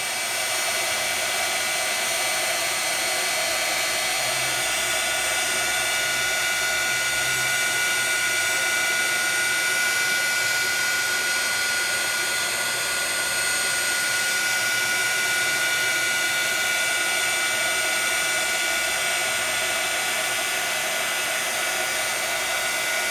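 A heat tool blows continuously while heating embossing powder on a craft project, a loud, even, airy whir holding steady throughout with no breaks.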